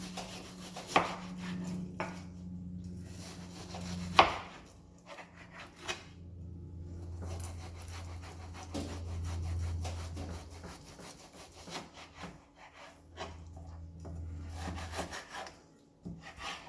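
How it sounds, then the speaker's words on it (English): A knife cuts partly frozen beef into cubes on a board with scraping, sawing strokes and a few sharp knocks, unhurried and close. "We'll start by cutting our meat into cubes."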